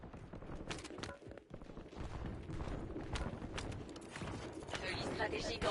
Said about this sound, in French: mais ça tire dans tous les sens